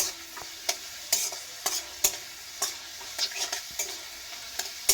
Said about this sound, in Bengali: প্রথমে রসুনটা ভালো করে ভেজে নেব।